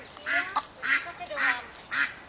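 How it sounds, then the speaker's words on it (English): Ducks calling in a run of four loud, raspy quacking bursts at fairly close range, each about a third of a second long and evenly spaced, with short gaps of quieter background between them. "ducks are calling, desperate to get in"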